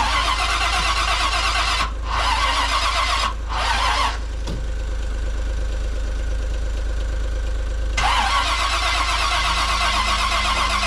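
A Jeep J20 engine with a cold, tired battery cranks loudly and close, breaking off several times in the first few seconds, then catches and keeps running with a rough, steady drone.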